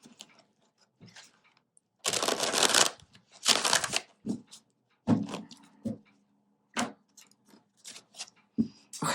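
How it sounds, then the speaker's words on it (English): Tarot cards being shuffled in bursts of papery riffling and sliding, with longer shuffles separated by brief pauses, close and fairly quiet. "You saw how many times I shuffled."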